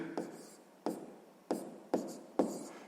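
Pen or marker strokes writing out a sixth-grade maths solution, five separate scratchy bursts spaced about half a second apart, close and fairly quiet with no talking.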